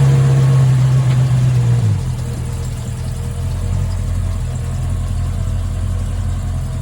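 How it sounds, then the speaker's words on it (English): A 1939 Chevrolet Restamod's engine runs steadily during a ride, a low droning hum that drops slightly in pitch about two seconds in and then settles into an even cruise, close and continuous with no talking. "his stunningly beautiful 1939 Chevrolet Restamod, which George offered me a ride in"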